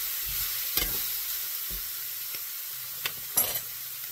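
Elk steak sizzles steadily in a pan while a utensil stirs it, with a few scraping clicks and clatters over the constant frying hiss.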